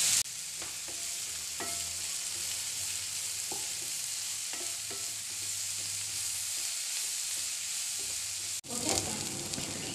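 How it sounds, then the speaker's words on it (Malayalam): Onions sautéing with salt in a pan give a continuous close sizzle with repeated stirring scrapes and taps, then a brief dropout near the end before the frying resumes, no voices present. "സവാള എന്ന എളുപ്പം വഴങ്ങി കിട്ടാൻ വേണ്ടിയിട്ട് ഇതിലേക്ക് ഉപ്പിട്ട് കൊടുക്കാം"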